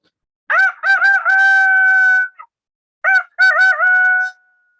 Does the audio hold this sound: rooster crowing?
yes